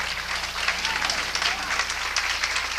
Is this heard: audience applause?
yes